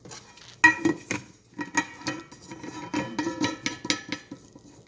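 Coffee grounds dumped from a shot glass into a pot at a kitchen counter, with a run of metallic clinks, clatters and scraping of cookware and utensils at close range, no talking.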